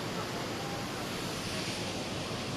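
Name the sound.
river flowing strongly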